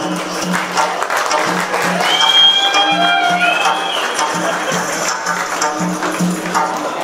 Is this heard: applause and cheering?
yes